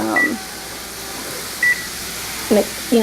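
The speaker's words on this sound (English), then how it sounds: "I'm going to set another timer just for 10" A kitchen timer being set beside a stovetop skillet of bacon cheeseburger meat, giving a few short, clear electronic beeps spaced apart over faint background hiss and room noise.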